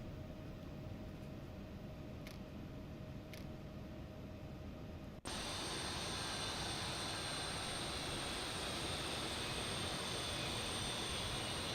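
Simulated Embraer E175 jet at the gate in X-Plane 12, a steady engine drone that abruptly changes at a sharp cutoff into a different constant broadband hum, loud and continuous with no talk.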